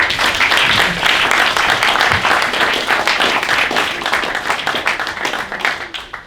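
Audience applause welcoming speaker Kenny Pryde at a Radio Days event, a dense steady round of clapping from a crowd that tapers off slightly toward the end.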